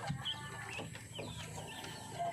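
Lethargic young chicks on a farm peep faintly, giving a few scattered, thin high chirps over a low, quiet background.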